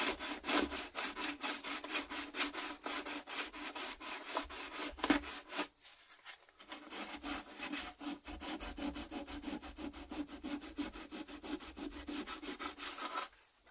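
Wood being hand-sanded with 240 grit sandpaper in a DIY router table build, steady rhythmic back-and-forth scratchy strokes, close and fairly faint, with a short pause midway.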